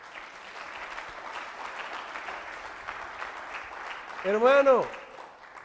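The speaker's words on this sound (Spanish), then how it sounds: "Dale un fuerte aplauso." A church congregation claps softly and steadily in the background, then a voice calls out briefly over the applause near the end.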